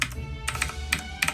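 Typing on a computer keyboard at a desk setup, a few quick crisp key clicks in small clusters over a low steady background hum, close and moderately loud.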